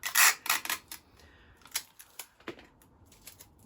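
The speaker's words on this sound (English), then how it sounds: "And we'll add a little bit more sticky tape" Sticky tape pulled off a roll in several quick ripping bursts and pressed down while a paper plate bumble bee wing is fixed in place, close and crisp, with small taps and crackles between pulls.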